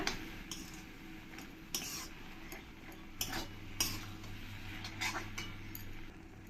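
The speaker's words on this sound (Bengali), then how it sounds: "একবার ভালো করে আমি নাড়িয়ে দেবো পাটের শাকটা" A spatula stirs jute leaf greens with shrimp in a pan over a medium flame, giving soft repeated scraping and clinking strokes over a steady low background hiss, close and moderately quiet with no talk.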